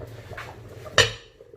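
A metal lid set onto a pot of boiling beef hotpot stew gives one sharp clink, over a low bubbling background.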